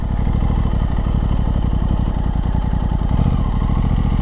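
A 2023 Aprilia RS 660 sport motorcycle revs hard, its engine pulsing quickly and loudly from close by. The note shifts near the end as the rider changes gear, and no voices are heard.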